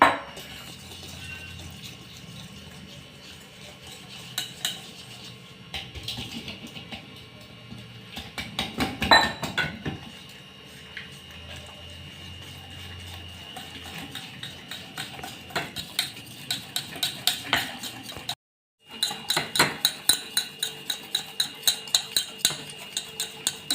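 Potato bhaji batter being mixed in a bowl for fasting-style fritters, with irregular soft stirring and sharper clinks of spoon against the bowl, faint and close, bursts of rapid tapping toward the end, no talk.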